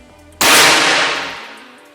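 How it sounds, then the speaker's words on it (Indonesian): A single sharp air rifle shot, a Grand 13 firing an HN slug pellet, bursts out loud and close after a brief quiet lead-in, then decays over about a second with no voices. "Tembakan yang pertama pakai slug."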